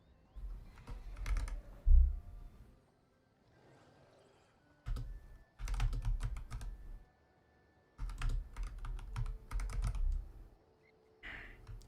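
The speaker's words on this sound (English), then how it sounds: "It's hard typing around my microphone." Bursts of close, clattery computer-keyboard typing come in uneven clusters separated by short pauses, with one heavier thump, the keys sounding near and slightly muffled as if struck around a microphone.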